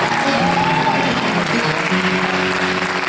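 Loud, dense applause from a concert crowd at a university gospel choir's anniversary concert fills the clip evenly, with some tonal hum and faint voices underneath.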